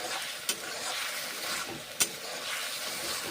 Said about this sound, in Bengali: আদা বাটা, জিরে বাটা, লঙ্কা বাটা কষে নিচ্ছি